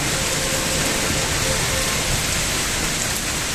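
A hard downpour drums steadily and loudly without a break, rain falling heavily on a road where vehicles keep driving through it, wind blowing; no one speaks.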